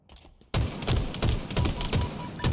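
Rapid gunfire bursts from a Halo multiplayer match crack out loudly and repeatedly after a brief quiet lead-in, with thumping shots layered in a dense, uneven rhythm.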